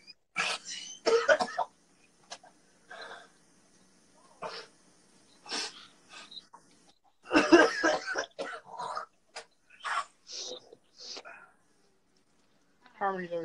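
Several harsh coughs come in bursts, some close and loud, others softer, with short quiet gaps between them.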